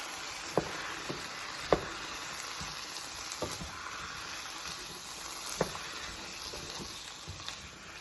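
Canned garbanzo beans being stirred into a cauliflower vegetable curry, with a steady low sizzle from the pot and a few sharp spoon knocks against the side spaced across the stretch.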